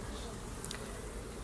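Honeybees hum steadily inside a cement wall behind a house, a faint, dense, continuous buzz with no other sounds.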